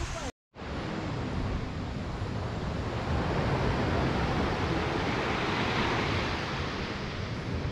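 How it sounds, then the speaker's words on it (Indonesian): Ocean surf washes onto a beach in a continuous broad roar, mixed with heavy wind buffeting the microphone, loud and steady after a brief dropout near the start. "Ombak."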